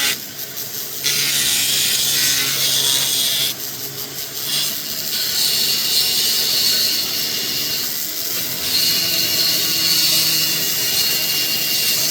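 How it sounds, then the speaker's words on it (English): Carving tool with Nova points grinding a Deer Creek fire agate, a continuous gritty rubbing and whirring that stops and restarts in several bursts, close and fairly loud with no talking. "use the whole shaft of your carving tool"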